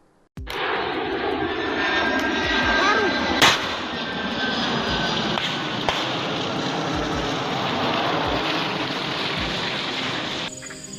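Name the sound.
TNI transport aircraft engine in OPM video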